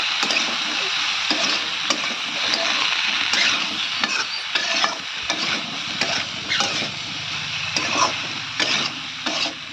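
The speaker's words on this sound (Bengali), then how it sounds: "সমস্ত কিছু উপকরণ আমার দেওয়া হয়ে গেলে ভালো করে নেড়ে দেবো।" Bottle gourd curry with cumin and coriander powder fries and sizzles in a pan while a spoon scrapes and stirs it in irregular strokes, close and continuous without speech.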